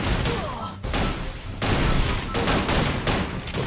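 Rapid bursts of grenade explosions and gunfire in the Free Fire battle royale game, loud and dense, several blasts following one another with brief gaps and no talking.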